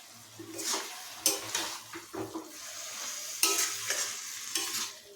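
Chopped banana flower is stirred in a pan with water added, giving repeated scraping stirs over a soft sizzle, close and fairly quiet.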